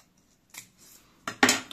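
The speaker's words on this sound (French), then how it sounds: "pour mettre un tour à cette étiquette-là, ce sentiment, je vais couper ça en deux." Scissors snipping through a paper label for a handmade card, close and crisp, with a couple of small soft rustles, then two sharp cuts in quick succession near the end, alone without talk.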